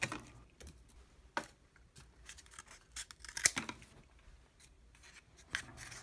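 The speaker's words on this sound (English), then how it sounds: "cut about a 1/2-inch strip off of the toilet paper roll" Scissors snip a half-inch strip from a cardboard toilet paper roll during rocket motor making, a few short crisp cuts and rustles spaced out over several seconds, close and fairly quiet.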